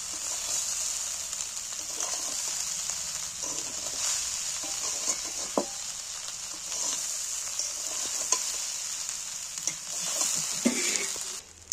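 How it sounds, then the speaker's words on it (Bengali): Fried rice being stir-fried in a pan after salt, spice powder and garam masala were added, giving a steady close sizzle with scattered scraping clicks of a spatula throughout, and no voices. "এটা আমার ভাজা হয়ে গেল,"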